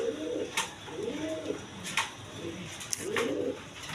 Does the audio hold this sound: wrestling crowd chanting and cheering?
no